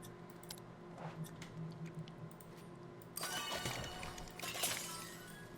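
Glass breaking in the game Trash Goblin: a quiet, muffled stretch with a faint tinkle, then a sharp, bright shatter followed by scattered crunchy fragments that settle out.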